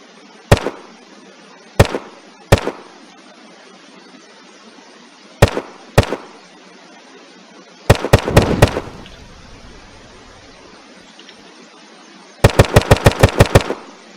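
A modded Western Front weapon in the game Unturned fires sharp, loud single shots spaced slowly apart, followed by two quick bursts of rapid shots, with near-silence between them.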